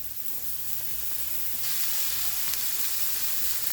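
Minced garlic and cauliflower rice fry in a hot pan, giving a loud, steady sizzle with faint stirring scrapes, growing slightly louder partway through.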